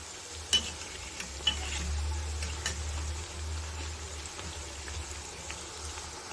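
Nippattu rice crackers fry in hot oil until golden brown on both sides, a soft, fairly faint bubbling sizzle dotted with scattered sharp crackles and ticks, with no talking.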